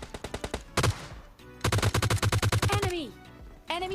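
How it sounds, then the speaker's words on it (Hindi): Automatic gunfire in the video game PUBG Lite: a short rhythmic burst of rapid shots, a pause, then a longer sustained burst, loud and close, followed by a brief tonal in-game sound. "फिर सामने की तरफ मुझे फायरिंग का साउंड आता है"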